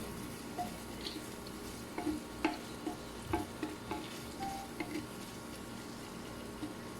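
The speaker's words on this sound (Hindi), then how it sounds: "प्याज को बस थोड़ा सा पिंक करेंगे।" Onions fry gently in butter in a clay pot, giving a steady soft sizzle while a spoon scrapes and taps against the pot in irregular stirring strokes.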